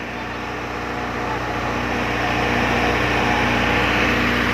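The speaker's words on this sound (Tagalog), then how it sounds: "Mahinga yung andar ng makina." A small engine runs steadily with a weak, buzzing drone that swells slightly louder toward the end, heard alone at close range.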